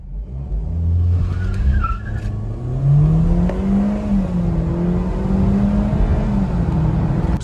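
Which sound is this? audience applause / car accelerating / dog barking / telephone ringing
car accelerating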